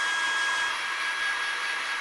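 A hair dryer blows a steady, loud, hissing rush of air with a faint whine as it dries paint on a Saruman bust from The Lord of the Rings, running unbroken with no talking.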